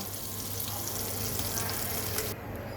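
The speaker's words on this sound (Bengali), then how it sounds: "এখন আমি মাছগুলো ভেজে নেই" Small mola fish fry in hot oil with a loud, continuous crackling sizzle heard up close, the hiss easing slightly near the end.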